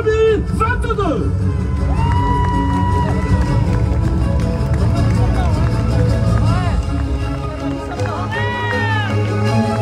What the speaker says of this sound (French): public de Megève, acclamation pour le champion en titre de la Grande Odyssée VVF Open